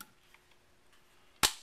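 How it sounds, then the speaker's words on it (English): Taking the magazine out of an AK-47 rifle chambered in .223 gives one sharp metallic clack near the end after a quiet stretch, close and crisp. "So you remove the magazine"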